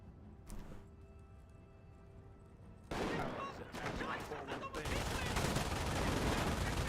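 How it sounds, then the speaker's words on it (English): MG4 machine gun volley in Company of Heroes, a quiet lead-in giving way to dense rattling bursts of gunfire that build and thicken toward the end, with voices under the battle noise. "MG4 did not suppress anything that volley."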